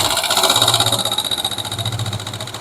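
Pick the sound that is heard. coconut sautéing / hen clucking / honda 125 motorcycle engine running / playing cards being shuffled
honda 125 motorcycle engine running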